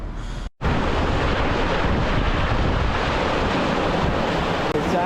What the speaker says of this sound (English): Super windy outside right now. Yeah, you can hear it banging on the tent.